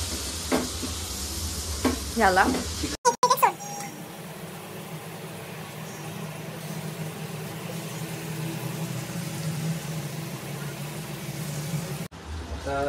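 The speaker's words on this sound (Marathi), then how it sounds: "आपण आता शॅलो फ्राय करून घेणार आहोत याला." Chicken shallow-frying in butter in a pan for butter chicken, a steady sizzle running throughout at moderate level, with a few brief clatters of utensils and a short burst of muffled voices near the start.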